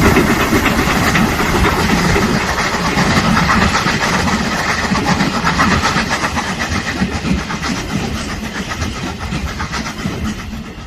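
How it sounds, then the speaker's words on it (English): Two steam locomotives, a Black 5 and an ML class, double-heading an end-of-steam special on the climb to Shap Summit, give a loud, continuous working roar with rapid chuffing throughout, fading slightly toward the end. "Double-headed Black 5 and Grid ML class, maybe on the climb to Shep Summit, heading an end of steam special most likely."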